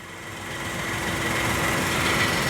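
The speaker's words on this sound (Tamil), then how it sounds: "இன்ஜின் ஆடிங்குது தெரியவே இல்லை" A 2011 Wagon R car engine runs steadily nearby, a constant hum with a faint high whine that grows slightly louder, with no talking.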